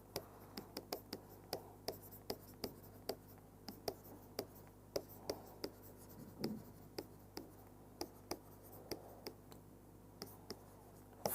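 Chalk tapping and scraping on a board during a physics lecture on Yukawa theory, a steady series of short sharp strokes, close and fairly quiet, with no voice over them.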